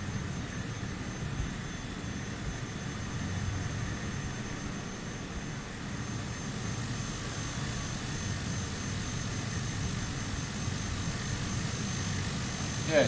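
Aircraft engine in Microsoft Flight Simulator on an Iceland bush trip, a steady broad drone that stays constant and fairly subdued, with no clear change in pitch.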